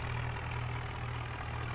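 A tractor engine idles steadily while parked in a farming game, giving a continuous low, throbbing drone at even loudness with no talking.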